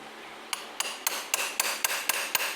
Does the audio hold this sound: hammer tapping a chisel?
yes